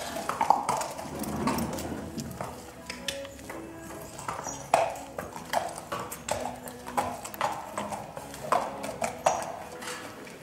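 Hooves of a para-equestrian sport horse clip-clop in a steady walking rhythm, fairly close and moderately loud, with a few faint metallic pings from tack between the footfalls.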